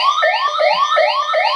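Lone worker emergency alert coming through on a digital radio, a loud, rapid repeating electronic warble sweeping up in quick cycles.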